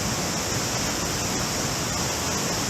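Dogwood Falls pours into a creek in the Richland Creek Wilderness, a steady, dense rush of falling water that holds constant without a break, close and fairly loud, with no voices.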